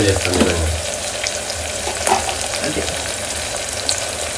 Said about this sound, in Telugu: అల్లం వెల్లుల్లి పేస్ట్ కూడా వేసాను ఒకసారి బాగా మిక్స్ చేసి